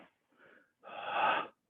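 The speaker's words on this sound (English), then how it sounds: "and then breathing out, reverse punch" A forceful breath pushed out during a karate reverse punch in a home training session, a short soft exhale followed by a longer, loud, raspy blast of air, close to the microphone.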